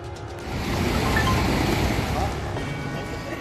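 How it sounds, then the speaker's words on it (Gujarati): Water gushes from the opened gates of the Machchhu 2 dam, a loud continuous roar with a windy rush that holds steady throughout. "મચ્છુ 2 ડેમના દરવાજા ખોલાતા જ ડેમમાંથી પુષ્કળ પ્રમાણમાં પાણી છૂટ્યું."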